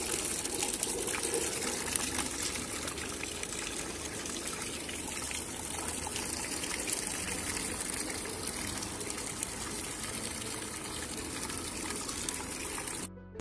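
Water from a bucket pouring and splashing steadily at close range, a broad continuous gush that runs throughout with no voices over it.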